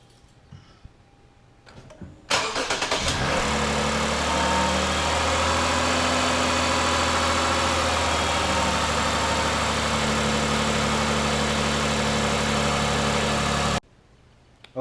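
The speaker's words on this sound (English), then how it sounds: "So my wife's going to go ahead and start up the car, and we're going to let it run for a few minutes" A 2013-or-later Lexus GS350 engine cranks and starts after a quiet moment, then idles steadily and evenly at close range for about ten seconds before cutting off abruptly.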